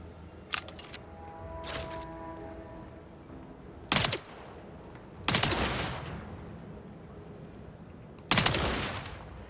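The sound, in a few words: silenced machine pistol firing in the video game The Outer Worlds 2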